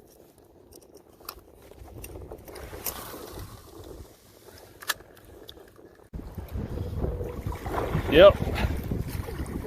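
Wind gusts buffet a fishing boat on open water, a low rumbling roar that turns strong and steady in the latter half, with a brief spoken word.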